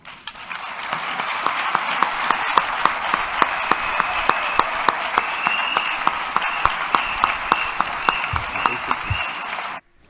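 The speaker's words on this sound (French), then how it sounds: "une vague d'acclamation à Abidjan en juillet dernier dans le cadre de la COP des villes pour le climat" A crowd bursts into sustained applause after a speech at the COP of cities for climate in Abidjan, dense clapping holding steady for about nine seconds before cutting off abruptly.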